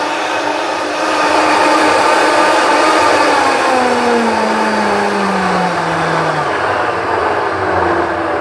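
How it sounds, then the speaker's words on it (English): A blender runs loud and continuous, whirring through thick fresh vanilla bean paste, its motor pitch sliding gradually downward as it labors. "The friction of running your blender for that long with this really like thick stuff"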